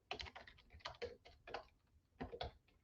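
Keys clatter on a computer keyboard in quick, close clusters of light clicks, with a short pause between bursts and no speech.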